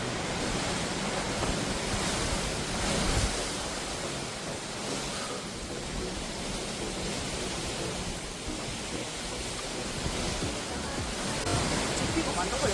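Strong wind sweeps around Dosolam hermitage on Dalmasan mountain in Haenam, a steady, dense roar with faint voices mixed in.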